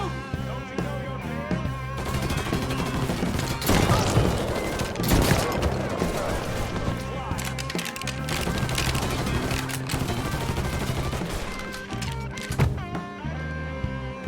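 Gunfire rattles through a Mafia III shootout, with dense bursts and rapid volleys of shots over continuous game sound and shouted voices.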